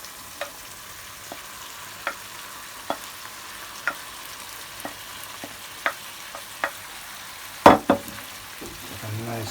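Peppered lamb fries in a pot on the stove while being stirred, with a soft continuous sizzle punctuated by regular scraping clicks of the spoon and a louder clatter near the end.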